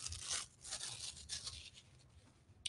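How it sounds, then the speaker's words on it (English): A plastic release sheet peeled slowly off a Mod Podge-coated paper napkin, giving soft crackling, tearing rustles in a few quiet bursts, close up with no voices. "So we're going to be really careful when we peel this back."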